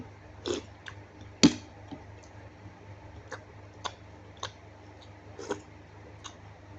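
Sparse crunchy chewing clicks at irregular intervals, one sharper crunch standing out, over a low steady hum with no talking.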